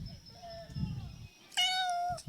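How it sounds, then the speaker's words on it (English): A new kitten lets out a clear, close meow near the end, following a soft, fainter cry, with quiet indoor background and some voices nearby. "that's my new kitty."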